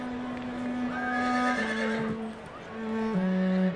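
A horse neighs in a long, loud, quavering whinny that rises and then falls through several pitch steps, heard close with nothing else over it, among the thousands of cavalry and transport horses shipped with Canadian troops to England in 1914.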